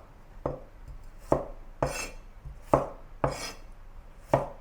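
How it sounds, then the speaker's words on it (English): A knife chopping carrots into cubes on a cutting board, heard as six sharp, evenly spaced chops close by with brief pauses between strokes and no talk. "And then get some carrots cut into cubes."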